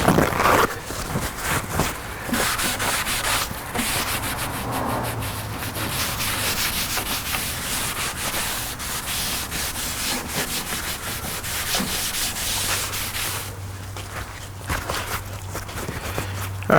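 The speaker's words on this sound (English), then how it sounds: "I'll probably come back through with my sander." A power sander works over the wooden cabinet of a Mortal Kombat II arcade machine under restoration, giving a continuous rough rubbing hum with a low motor drone that fades midway and returns near the end, close and with no talk.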